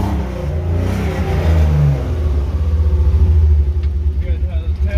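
BMW E36 engine with a blown muffler and exhaust leak, rumbling deep and loud up close as it revs and settles into a throbbing, pulsing idle, with voices nearby.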